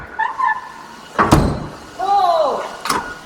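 The door of a 1957 Chevy swings shut with a solid metallic thunk, followed by a second sharp closing knock, while people talk nearby between the impacts.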